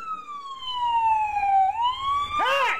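A police car siren wails at full blast, one long tone sliding down and then rising before breaking into a rapid yelp, loud and near with faint engine rumble beneath.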